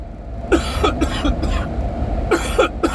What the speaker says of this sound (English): I have a residual cough from being sick